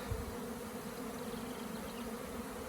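A dense, steady drone of a honey bee swarm at an apiary, loud and continuous throughout with no pauses, many bees buzzing close by.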